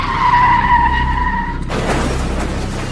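A car's tires squeal in a long, loud skid, then a sudden burst of harsh broadband noise marks the impact as it strikes a man out on his morning walk, a dramatic story sound effect.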